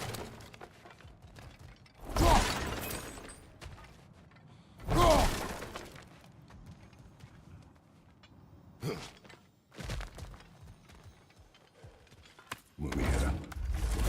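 Crashing breakage bursts from smashing through objects in God of War Ragnarok, several loud broadband crashes spaced a few seconds apart over low background game ambience.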